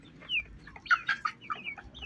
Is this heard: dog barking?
no